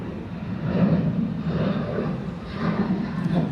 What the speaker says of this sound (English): Rather a long takeoff path before it lifted off. Going to Toronto, 737-800.